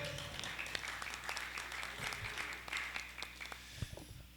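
Audience applause at a pro-life forum, rhythmic and fairly faint clapping with scattered sharper claps, fading toward the end.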